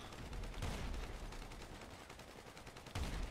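Sniper rifle firing explosive rounds in GTA during a Doomsday heist, heard as dense, muffled bursts of gunfire that run steadily, with sharper blasts near the start and end, moderately quiet.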